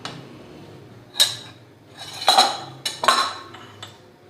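A spoon clinks and scrapes against a metal pot while chickpea curry for Lahori chikar cholay is stirred, with a few sharp metallic knocks over a quiet background and no talk.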